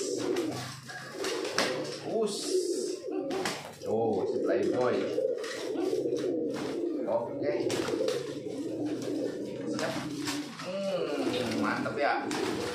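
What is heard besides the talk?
pigeons cooing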